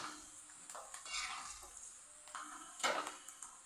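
Oil sizzles in a pan as anchovies fry while a utensil scrapes and stirs in bursts, with metallic clinks between; close and fairly quiet, no talking.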